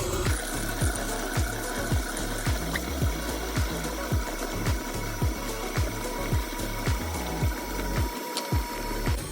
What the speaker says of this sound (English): So I turn back on the mixer.